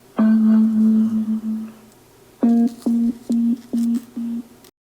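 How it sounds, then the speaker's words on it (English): A TREBLAB HD Go portable Bluetooth speaker powers on with a loud, clear electronic tone held for about two seconds. A short pause follows, then five evenly spaced short beeps, with no talking. "Hold down the play button to power it on."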